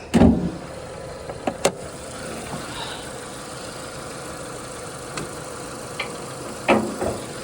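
A 2007 Renault Megane Scenic II 1.6 petrol engine idles steadily at low volume, a soft constant hum with a few brief clicks and knocks on top.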